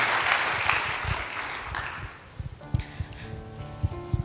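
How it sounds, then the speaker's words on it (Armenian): An audience claps together at a gathering where a poem is read, the applause full and steady for about two and a half seconds before thinning into scattered claps as soft music tones enter. "Մի անգամ էլ արի ծափահարենք մեր Տիրոջը։"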